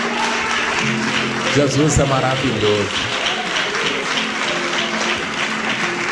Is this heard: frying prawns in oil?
no